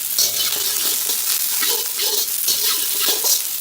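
White bottom parts of greens sauté in a hot pan, giving a steady bright sizzle with light stirring scrapes throughout, close and fairly loud, with no voices.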